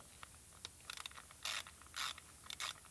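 A hand ratchet clicks in quick bursts while tightening a long bolt on a Pentastar 3.6 engine in a Grand Caravan, with short rapid pawl rattles separated by pauses, close and crisp.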